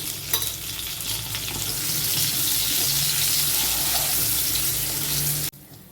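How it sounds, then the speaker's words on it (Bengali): Potatoes, lightly salted, fry in oil left from browning onions for chicken biryani, a loud steady sizzling hiss with faint stirring scrapes that cuts off abruptly near the end. "আলুগুলো ভেজে তুলব"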